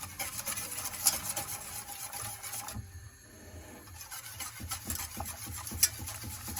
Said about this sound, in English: You continue whisking it to prevent it from sticking to the pan.